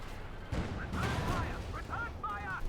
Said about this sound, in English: Nice hit for Puma on the T-70 light tank.